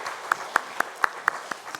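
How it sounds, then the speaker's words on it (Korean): Regular, evenly spaced claps ring out over a soft background of many hands, like a church congregation clapping in time during a Sunday service. "하나님 앞에 영광의 박수 올려드리겠습니다"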